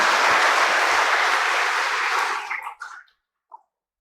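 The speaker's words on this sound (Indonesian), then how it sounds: "Tepuk tangan untuk ulang tahun Paroki Hilarius yang kelima." Church congregation applauding at a Sunday Mass marking a parish's fifth anniversary, a full sustained wash of clapping that tapers off into a few scattered claps and silence.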